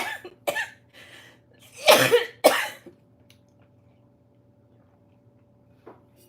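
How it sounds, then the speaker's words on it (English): Several harsh coughs in quick succession, the last two loudest and close by, followed by a faint cough and a quiet room hum. "I'm going to cough again."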